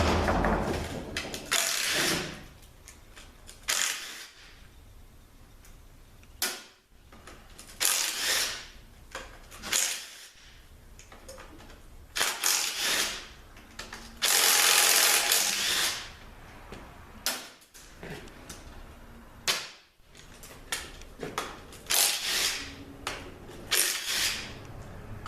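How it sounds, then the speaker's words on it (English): Ratchet working loose the bottom bolts during an engine teardown, with bursts of rapid clicking from the pawl between pauses, repeated many times, close and fairly loud, with occasional clanks of metal. "Easier to get these bottom bolts out."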